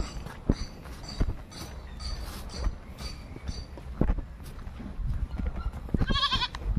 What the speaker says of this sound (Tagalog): Yung mga kambing nandito.